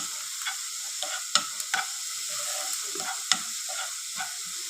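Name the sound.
crushed carrot being stirred and roasted in ghee in a pan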